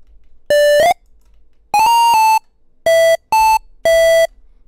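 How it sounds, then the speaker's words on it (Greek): Square wave synth tones from the FL Studio 3xOsc oscillator play a bright, buzzy melody of five sustained notes with small pitch slides, loud and alone with no voice. "Πάμε να δούμε όμως και το square. Με το square μπορείς να κάνεις μελωδίες."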